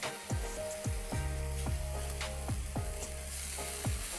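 Garlic frying on a high flame for an egg street-food dish gives a steady sizzle, with a regular series of scraping stirs about every half second, close and clear with no talking.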